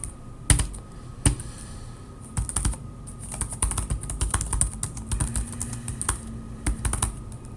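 Keystrokes on a computer keyboard, close and clear, starting with a few isolated taps and then turning into a quicker irregular run of typing with no voices.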